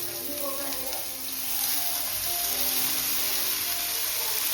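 Wild monsoon greens with spices sautéing in a pan, a steady soft sizzle and crackle running throughout under faint background hum.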